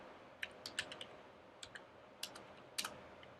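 Code is typed on a computer keyboard in Xcode for a Swift 5 app, a faint scattered run of individual key clicks with short irregular gaps, quiet and close with no talk.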